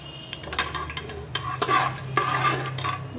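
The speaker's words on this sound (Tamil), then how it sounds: "எண்ணெயில் நல்லா இந்த ஸ்பைசஸ் வணங்கணுங்க" Whole spices sizzle in hot oil in a pressure cooker pot for mutton biryani, a steady frying hiss broken by scraping stirs of a ladle against metal, close and fairly quiet.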